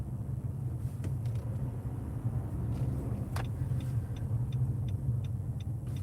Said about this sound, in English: But you know how this New York traffic is.